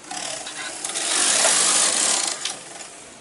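A knitting machine carriage sweeps across the needle bed while knitting a sweater back, making a rising and falling mechanical swish and rattle that swells in the middle and fades near the end.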